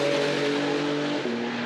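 A Porsche 911 GT3 RS of the 991.2 generation holds a steady, close, loud engine drone, its tone dipping slightly near the end.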